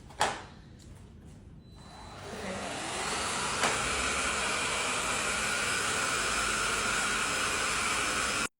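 A vacuum cleaner in a home starts up after a couple of knocks and runs as a steady, fairly loud whining hiss for several seconds before cutting off abruptly.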